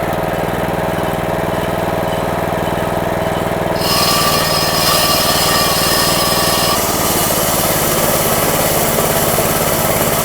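A hitch-mounted core drill's motor drones loudly and continuously, with a higher whine joining partway through as it cuts, then settling back.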